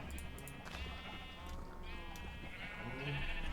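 Sheep in the Minecraft video game bleat repeatedly, several overlapping wavering calls over a low steady background hum, fairly close and clear.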